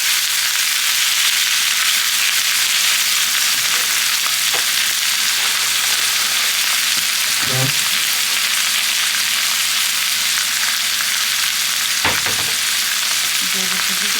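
Haddock fillets sauté in a pan with onion and asparagus over lowered heat, giving a steady, dense sizzle and frying crackle with a few clinks of a utensil, no talk.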